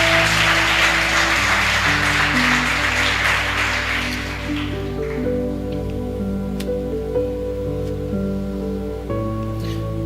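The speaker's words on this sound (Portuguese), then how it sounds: "Aplauda o Senhor Jesus." A church congregation applauds in a loud burst of clapping over the first few seconds, fading out as sustained organ or keyboard chords carry on underneath.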